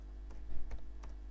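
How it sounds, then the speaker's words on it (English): A few soft keyboard keystrokes tap irregularly over a low steady hum, quiet and close. "Apologies if the typing is loud."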